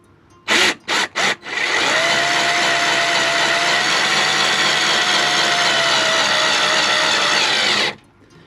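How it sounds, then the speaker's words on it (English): A power drill boring into a car splitter on a Dodge Charger Hellcat, with three short trigger bursts and then a long, steady high-pitched whine that runs for about six seconds before stopping, close up and loud. "I'm drilling holes on here"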